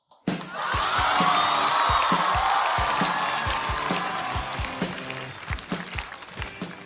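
A live stand-up comedy audience bursts into loud, sustained applause with cheers and whoops for a comedian walking on stage, the clapping swelling quickly and then slowly thinning toward the end.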